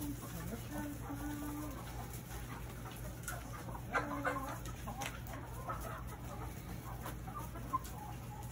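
Backyard chickens cluck and murmur over a pile of chopped, mushy fruit treats, with soft fowl calls scattered throughout and a steady low hum underneath.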